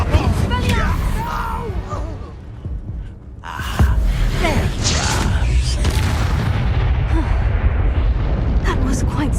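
Incendio fire spell cast in Hogwarts Legacy, booming fiery bursts and rumbling magical effects, loud and close, with voices and other game sounds throughout.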